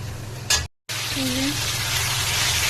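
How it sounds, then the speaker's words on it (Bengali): Mutton hits a hot pan of onion, garlic, garam masala, cinnamon, bay leaf and dried red chilli, giving a steady close sizzle; a brief burst of stirring comes first, then a short silent gap, then continuous frying. "এই যে মাটনটা দিয়ে দিলাম। এই মাটনটাকে ভালো করে কষিয়ে নেব।"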